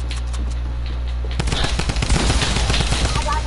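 Rapid drum gun spray in a Fortnite box fight, bursting in loud and dense after a quiet opening and hammering on without pause to the end.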